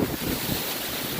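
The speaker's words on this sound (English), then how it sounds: "That's about a 60-mile-an-hour gust." A high wind gusts hard around a portable garage, roaring with loud, buffeting rumble across the microphone.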